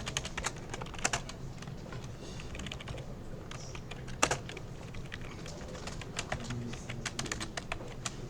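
Rapid keyboard typing while entering game code for a Bubble Trouble remake, a steady run of close, crisp key clicks with occasional harder strikes, faint bird cooing in the background, no talk.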